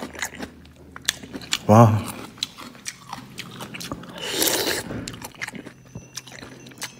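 Someone takes a crunchy bite and chews a mouthful of fish soup noodles up close, with a sharp bite near the start, moist chewing after, and brief spoken exclamations.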